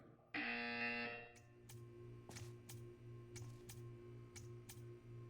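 A loud electronic buzzer in the video game Portal 2 blares for about a second, followed by a repeating ticking pattern over a steady low hum.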